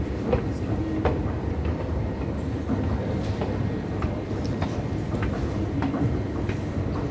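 A commuter train running along its rails, a steady loud rumble with rhythmic clicking and clacking of wheels over track joints, heard from inside the moving carriage.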